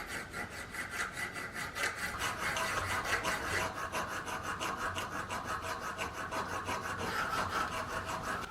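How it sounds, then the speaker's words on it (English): A hand file rasps steadily back and forth, working out a square hole in a forged knife fitting, each stroke close and distinct in an even rhythm that continues throughout. "So I'm gonna finish this by just filing it out."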